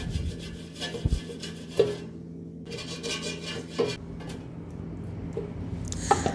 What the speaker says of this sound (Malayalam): ഇനി എയർ ഫ്രയറിൻ്റെ പാനിൽ വെളിച്ചെണ്ണ പുരട്ടി കൊടുക്കാം